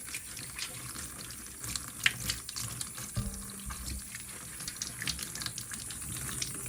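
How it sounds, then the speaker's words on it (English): Running tap water splashes steadily into a sink as potatoes are rinsed and scrubbed under it, with faint knocks and clatter from handling, heard fairly quietly and close. "For that we need to wash the potato, remove all the dirt."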